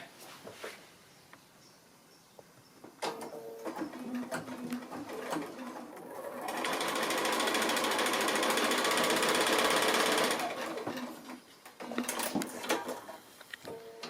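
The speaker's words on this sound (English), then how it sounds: "I'm sewing diagonally there to trim away the corner" A sewing machine stitches diagonally across a quilt block to trim a corner, a steady mechanical whir that swells loud for several seconds between quieter clicks and handling.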